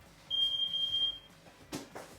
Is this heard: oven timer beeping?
yes